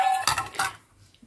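Two aluminium bowls are handled and knocked together, giving a few bright metallic clinks close by that quickly ring out into quiet.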